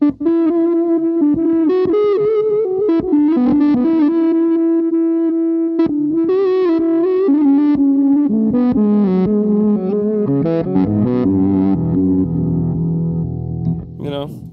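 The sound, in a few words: electric guitar with distortion pedal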